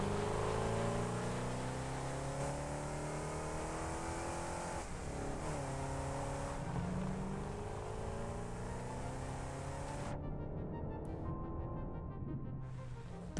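Vehicle engine from a car driven in the game Satisfactory, a steady close motor drone with shifting revs that rise and fall, then thins out near the end, with no talk over it.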